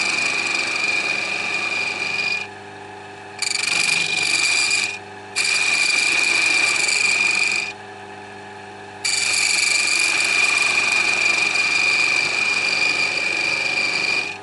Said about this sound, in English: I will be sharpening every point just with a diamond file.